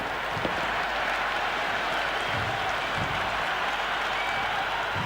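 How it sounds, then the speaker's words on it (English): A stadium crowd in the cricket video game Cricket 26 at a T20 World Cup match roars and applauds in a dense, continuous wash of cheering, loud and sustained throughout. "It's evident and ever so audible that the crowd is at near bursting point at today's play"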